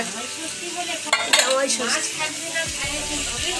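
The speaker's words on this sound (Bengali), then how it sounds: "এটা কাতলা মাছের মাথা ভাজা হচ্ছে, একদম ফ্রেশ পুকুরের মাছ।" A katla fish head from a fresh pond fries in a pan, giving a loud, steady sizzle with metal stirring and scraping sounds from a utensil throughout.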